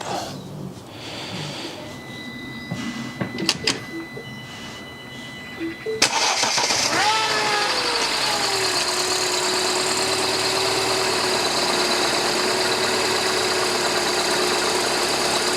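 A Mini Cooper N14/N18 engine cranks and catches after a stretch of quieter background noise, then settles into a steady, loud idle that holds to the end.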